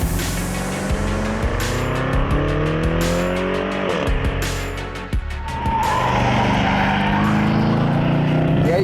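A BMW 8 Series with a 4.4-litre M Performance twin-turbo V8 and 8-speed Steptronic Sport transmission drives hard. Its engine note climbs repeatedly through gear changes, with a brief dip in the middle and tyre noise under the loud, continuous roar.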